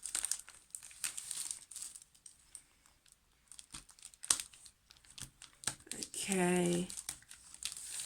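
A blade is drawn softly in slow strokes through packaging around a Raspberry Pi beginners guide book, giving quiet scratchy crinkling and tearing sounds in short separate bursts, close and faint, with a brief spoken word near the end.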